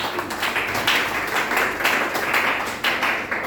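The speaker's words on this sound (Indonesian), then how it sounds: "Beri tepuk tangan bagi Tuhan Yesus." A church congregation claps together in praise during a sermon, a thick, close patter of many hands that rises and falls in waves for a few seconds.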